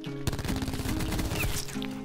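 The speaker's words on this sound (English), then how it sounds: "Who's shooting me?" Video game gunfire in a Stockpile match, a rapid burst of close shots rattling continuously after a sharp opening crack, with game effects layered underneath.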